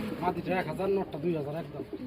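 Pigeons coo at a breeder's loft selling pairs, including a black male and a blue spangled female, with a repeated low coo under steady voices talking nearby.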